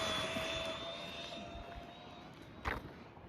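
A Rlaarlo DSK 4-wheel-drive RC car on 6S power with pizza-cutter wheels screams at full throttle, a steady high whine with harmonic tones that holds for the whole stretch, with a brief louder burst near the end.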